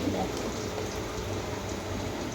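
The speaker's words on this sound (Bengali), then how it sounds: "তেলটা গরম হয়ে গেছে, আলুটাকে দিয়ে দিয়েছি" Potatoes frying in hot oil give a soft, even crackling hiss that stays constant and fairly quiet throughout, with no voices.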